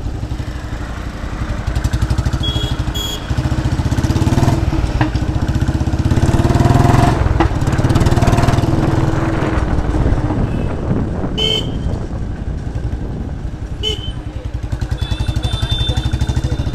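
A Royal Enfield Bullet motorcycle with a loud aftermarket exhaust idles and revs nearby with a deep, steady thumping rumble, and a few sharp pops stand out over it.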